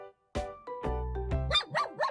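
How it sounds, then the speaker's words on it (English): A puppy barks and yips in a quick series of high, close barks, the first one sharp, then several shorter yaps. "Leo was eager to play with his new puppy, Floppy."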